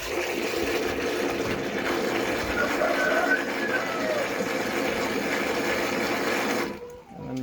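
A calf feeder mixing milk replacer gives a steady churning, whirring hum with a watery wash, running continuously at close range, then cutting out abruptly near the end.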